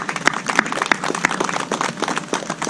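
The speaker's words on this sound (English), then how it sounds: "Let's give them a round of applause this morning." An audience claps for dignitaries at a college groundbreaking ceremony for a student services center, a dense, steady round of applause with sharp individual claps throughout, no voices over it.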